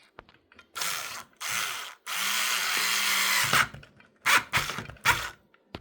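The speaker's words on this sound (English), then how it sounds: "I'm going to put the screw in." Screw driven into the power switch bracket of a Commodore 1084 monitor, several short loud bursts of a power driver whirring with one long sustained run and clicking in between, close up and with no talk.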